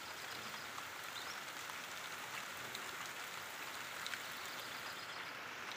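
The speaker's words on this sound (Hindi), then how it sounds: "हमारे इधर अभी बारिश हो रही है।" Steady rain falling outdoors during a monsoon storm in Chittorgarh district, Rajasthan, a continuous even hiss with soft pattering throughout, fairly quiet and with no voices.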